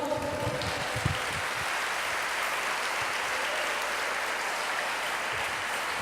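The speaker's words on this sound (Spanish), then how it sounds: "¿Cuántos pueden darle una ofrenda de aplausos al Señor?" A church congregation applauds in praise, a broad, even wash of many hands clapping that hisses almost like rain, sustained at moderate distance with no pause.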